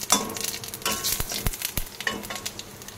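Dried chilli, bay leaf and Bengali five-spice sizzle in hot oil, with a close, steady frying crackle broken by sharp scrapes and clacks of stirring.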